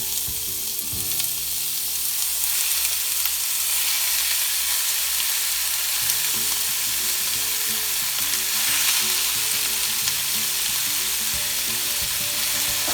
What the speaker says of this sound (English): we will be adding in our meat into a pan with medium-high heat